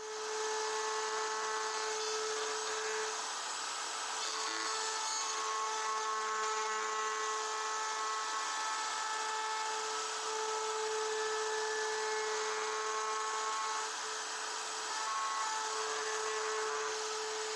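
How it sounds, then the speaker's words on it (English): A router fitted with a 1/8 inch round over bit rounds the edges of scrap wood coasters, giving a steady, loud, high-pitched motor whine that runs unbroken throughout with no talking. "now we've got all the edges rounded off with the router"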